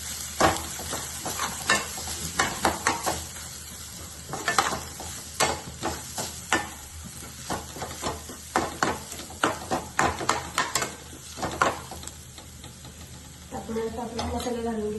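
Onion masala being sautéed in a pan, with repeated spatula scrapes and knocks in an uneven rhythm over a soft sizzle, close by, and a voice briefly heard near the end.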